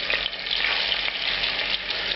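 Loud, steady sizzling of chicken frying in butter in a hot pan, crackling and spitting continuously with no talking.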